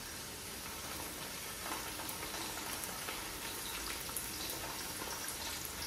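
Onions sizzle and fry steadily in a pan, a continuous soft crackling hiss with no voices.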